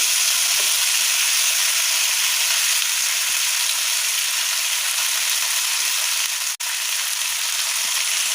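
Bhogi bhaji vegetables with curry leaves and cumin fry in hot oil, giving a steady, loud, continuous sizzle with a brief clatter near the end.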